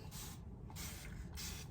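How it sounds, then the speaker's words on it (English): A spray bottle misting warm water onto natural hair gives three short, close hissing bursts in quick succession, with quiet gaps between them. "we're going to spray some water now"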